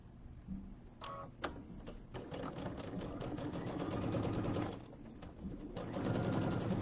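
A sewing machine stitches along the edge of fabric with thin pins in it, a close, rapid mechanical whirring and ticking that starts with a few taps and then runs steadily, briefly slowing before speeding up again.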